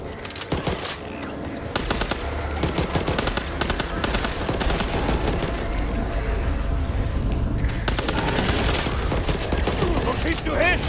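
Rapid automatic gunfire in the co-op zombie shooter Back 4 Blood, loud and nearly continuous bursts of rattling shots with clattering game effects, with voices talking over the fighting.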